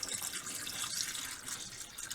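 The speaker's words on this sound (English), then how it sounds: "I'm just going to go ahead and pour in the drains" Plumbing antifreeze pours steadily down a sink drain in an Imagine 2600 travel trailer being winterized, a continuous close splashing gurgle of liquid with no talk over it.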